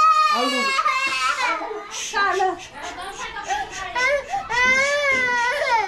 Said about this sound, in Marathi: तर ती कपडे घालण्यासाठी रडत होती जोर जोऱ्यामध्ये